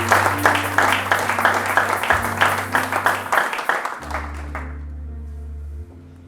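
Church congregation clapping rhythmically and fairly loudly, the claps steady over a sustained organ or keyboard drone, fading out toward the end as the keyboard continues alone.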